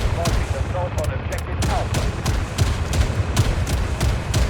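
SMG-45 fire in the shooter Delta Force: rapid, steady bursts of close gunfire with crisp repeated cracks over dense battle noise.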